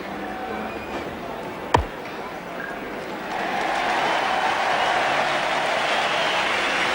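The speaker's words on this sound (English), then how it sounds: "Applause from this big crowd for Graham Wood's 50." Crowd at a 1980 Australia versus New Zealand cricket match breaks into applause for Graham Wood's fifty, a sharp knock early, then broad, steady clapping swelling from a distance.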